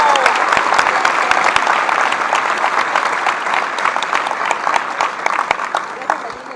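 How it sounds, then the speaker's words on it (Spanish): An audience claps loudly and continuously at a training session to welcome first-time attendees, a dense, sustained wash of applause that eases slightly toward the end. "quiero que todos nosotros le demos un fuerte aplauso a las personas que vienen por primera vez"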